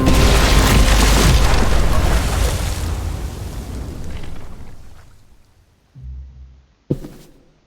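A bomb goes off in The Walking Dead video game with a loud, sustained roaring blast that slowly fades over several seconds, followed by two short, sharp thuds near the end. No voices are heard.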